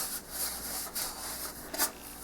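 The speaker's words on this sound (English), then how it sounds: "Now I'll just finish sanding up with this 1/2 inch dowel and tidy this area up a little." Sandpaper wrapped on a 1/2 inch dowel scrubs the wood of a Brodak Carl Goldberg Little Toot control line model biplane, a close, dry rasping in several quick back-and-forth strokes.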